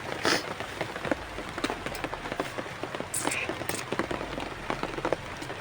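Rain patters steadily on a surface, with scattered louder drops and a few faint voices in the background.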